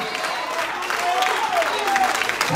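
Church congregation clapping during a sermon, a continuous crowd clap that builds slightly, with a preacher's voice rising over it.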